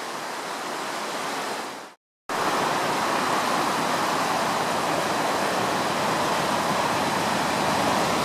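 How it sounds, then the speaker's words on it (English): A steady, heavy roar of the flooded Ogmore and Llynfi rivers at Sarn, Aberkenfig, in January fills the clip, broken by a brief silent gap before the loud torrent resumes unchanged. "The river's already spilled up in the allotment area there."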